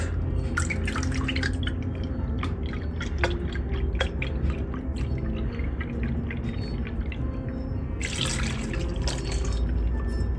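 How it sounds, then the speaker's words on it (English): Water is added by the cup into a pot of homemade ham and potato soup, giving a steady close splashing and dripping pour with no talk. "It might be okay just to add a little bit of water"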